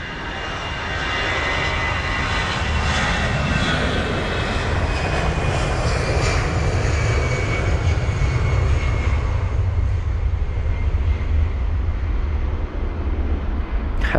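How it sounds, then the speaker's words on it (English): An Aer Lingus Airbus A320 jet takes off at Heathrow with a loud, steady engine roar that fills the whole stretch without fading, and no one talks. "Lingus A320 rocketing away"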